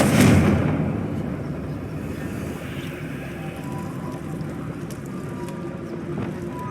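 A Confringo blasting spell cast in the video game Hogwarts Legacy bursts loudly at the start, a single booming blast that trails off into a steady rumbling, crackling ambience of the game world, with no voices.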